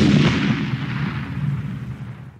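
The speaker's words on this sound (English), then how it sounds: "Grenade surprise." A grenade going off inside a bunker's fake air vent: one heavy, booming blast that rolls and rumbles, then fades away over about two seconds.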